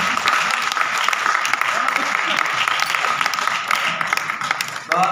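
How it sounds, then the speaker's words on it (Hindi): Crowd applause at a Hindi patriotic poetry gathering, a dense, steady wash of many hands clapping that holds loud and even for several seconds before trailing off at the end. "जोरदार तालियों से स्वागत कीजिए आप इस देश के राष्ट्रीय स्वर का।"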